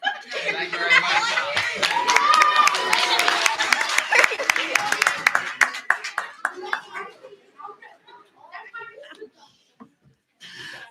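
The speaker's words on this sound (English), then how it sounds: "they've been cheering for everybody that's been up here so far" A group of girls clap and cheer at a township council meeting, dense applause with laughter and shouts that thins into scattered claps and chuckles, voices mixed in.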